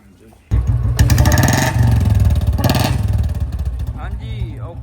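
A repaired UCE-model motorcycle engine starts abruptly and runs close by, the steady thrum rising in two brief revs before settling toward idle, while people talk nearby.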